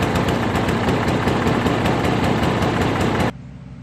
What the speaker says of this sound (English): The problem with this mower, though, is that it starts fine, but it runs poorly, which makes mowing very difficult.